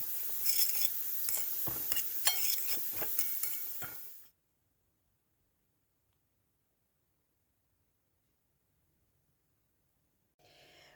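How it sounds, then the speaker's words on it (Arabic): A spoon stirring and mixing ingredients for white vermicelli chorba, an Algerian soup, in a pot: quick scraping and clinking for a few seconds, then silence until a faint return at the end. "ونخلط كل المكونات كامل مع بعض ونعاودو نفرغوها في المرقه"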